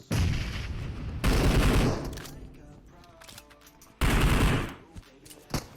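Bursts of automatic gunfire in PUBG Mobile, two long loud rattling volleys separated by a quieter stretch, with scattered single shots near the end.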